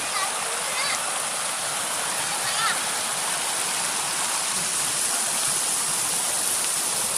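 Rainy-season floodwater rushes over a weir near rice fields, a loud, constant broadband roar with splashing and no pause.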